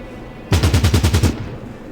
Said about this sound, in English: They can keep trying to shoot Stumpy. I don't mind them shooting Stumpy.